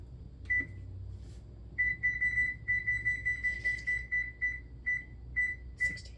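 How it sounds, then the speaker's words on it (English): A kitchen timer set while baking biscuits beeps: a single early chirp, then a steady string of rapid, evenly spaced high beeps, fairly close and clear over a low background hum. "Reset my timer."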